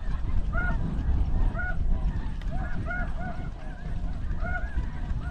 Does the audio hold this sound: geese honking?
yes